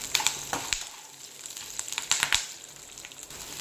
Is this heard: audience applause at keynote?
no